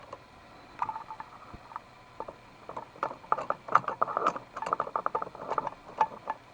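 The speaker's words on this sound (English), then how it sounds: "I'm going to put back the handle." Luggage trolley handle being pushed back into its track, a run of small clicking, ratcheting plastic and metal rattles that grows busier midway, close up and fairly quiet, with no voices.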